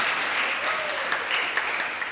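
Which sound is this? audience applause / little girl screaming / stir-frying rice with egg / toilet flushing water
audience applause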